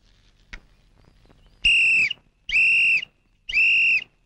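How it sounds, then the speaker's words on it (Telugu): Three sharp, loud, high-pitched whistle blasts in a steady rhythm, each about half a second long, preceded by a faint click, with no talking over them. "ఏంట్రా విజిల్ కొడుతున్నావు?"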